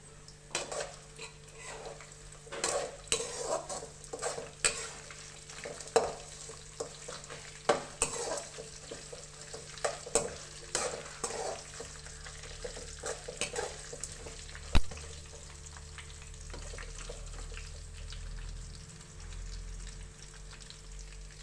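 Curry leaves frying in a tamarind rice tempering sizzle softly while a spoon scrapes and clinks against the pan in irregular stirring bursts, quieter toward the end, with no voices.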